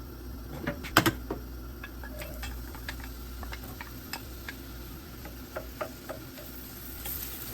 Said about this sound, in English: I'll go ahead and add my onions and my celery along with my garlic